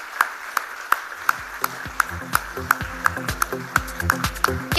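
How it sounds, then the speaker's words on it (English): Audience at a special-guest segment of the TCS CodeVita Season 8 finale answers a call for applause with scattered, sharp handclaps that build into denser clapping, mixed with low musical tones and hall ambience. "Huge round of applause, guys."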